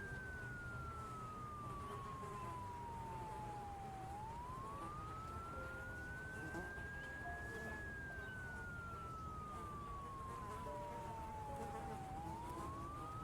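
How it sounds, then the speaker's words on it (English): In Project Zomboid, a siren fire trap wails continuously with a smooth tone that slowly rises and falls over two long cycles, steady and moderately quiet against a low ambient hum. "That is the siren fire trap right there."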